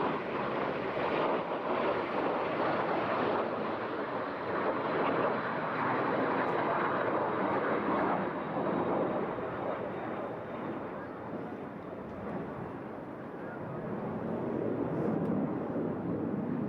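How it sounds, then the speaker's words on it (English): A pair of BAC Strikemaster jet aircraft flies past at an airshow, a sustained broad roar that holds steady throughout with faint wind noise and a brief spoken remark over the top. "Please welcome the Strikemaster pair."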